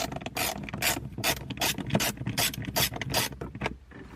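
A screw being removed from the speaker grill of a 1996 Chevy S-10 with a ratcheting tool: a rapid series of close, crisp ratchet clicks in bursts, ending quieter.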